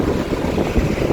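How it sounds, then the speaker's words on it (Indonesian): Strong typhoon wind blowing outdoors as rain eases, a steady roaring rush with gusty low buffeting against the microphone, loud and continuous, no talking. "Itu pohon-pohon tuh pada angin ya, karena angin banget dari itu."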